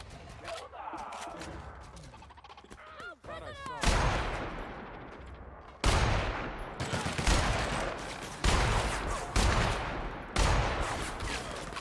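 Gunfire in the sci-fi shooter The Outer Worlds: sharp, loud shots arrive in bursts and single cracks after a stretch of game voices and effects, ringing out close with brief gaps between volleys.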